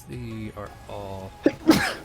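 One person sneezes sharply near the end, right after another person speaks briefly during a tabletop Dungeons & Dragons roleplay session.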